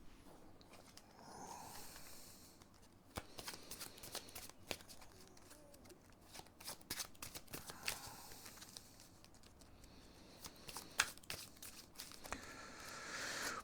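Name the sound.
shuffling playing cards, Marvel Champions card game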